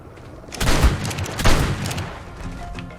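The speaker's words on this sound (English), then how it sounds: "The 8th most useful item in the game is going to be pump action shotgun." Pump action shotgun blasts in the video game ARK, two loud booming shots about a second apart with a brief rumbling tail, and no talking.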